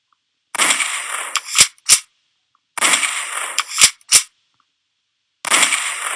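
Synthetic gunshots in a Duck Hunter AR video game, each a loud burst of bright noise followed by two sharp cracks, repeating three times with silence between.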